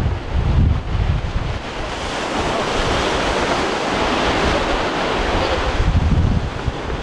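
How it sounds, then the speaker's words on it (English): Surf and gusting wind at Balluta Bay beach in St. Julian's after storm damage to the sand, a steady roaring wash of waves with wind buffeting the microphone, heavier rumbles near the start and end. "This is Balluta Bay. Lovely beach in the summer."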